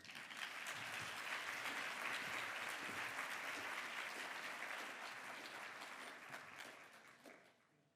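Audience applause for Secretary Johnson, a dense sustained crowd clapping that holds steady for several seconds, then tapers off at the end.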